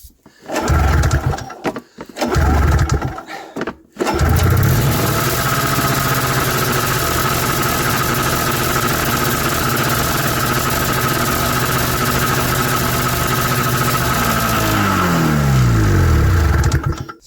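A 1994 Yamaha VX500 snowmobile engine with a carburetor fault, dosed with starting fluid, sputters through a few brief bursts, then catches and runs steadily and loudly before slowing near the end.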